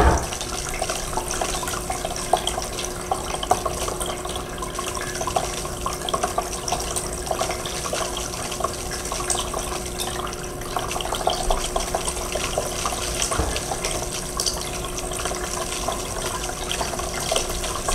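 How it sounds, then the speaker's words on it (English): Steady running water pours and trickles continuously into a groundwater model's river channel, like a tap filling a basin, with a dense, even rush throughout and no talking. "So now you can see the river is starting to fill with water"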